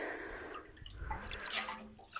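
Water is scooped by hand from a flowing river, with faint close splashes and scattered drips over a soft background wash.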